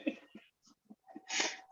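One sharp, loud sneeze bursts out near the end, preceded by faint breathy sounds and quiet vocal noises close to the microphone.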